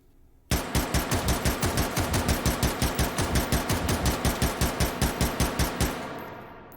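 Rapid semi-automatic fire from a Mini-14 rifle chambered in 5.56x45 in the VR game H3VR: about thirty evenly spaced, sharp shots in quick succession, loud and close, followed by a short ringing tail.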